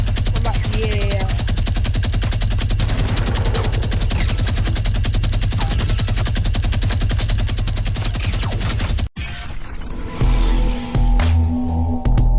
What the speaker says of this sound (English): The new minigun is here, so let's get right into it.